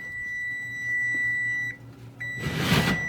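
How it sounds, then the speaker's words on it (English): A kitchen timer beeps with a steady high electronic tone during banana bread baking, holds for over a second, pauses briefly, then resumes as a louder burst of rustling and handling noise sweeps in near the end. "it would help if I turned off the timer."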